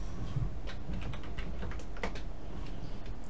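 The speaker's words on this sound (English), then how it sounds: "I can type in a program here." Fast, steady typing on a USB computer keyboard hooked to a homemade ESP32-S3 retro computer, a close run of crisp key clicks with no voices.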